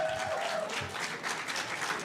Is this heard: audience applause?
yes